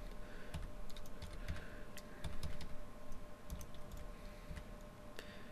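Rapid clicks of a computer keyboard as an IP address is typed in, an irregular run of light, close keystrokes in a quiet room with no talking.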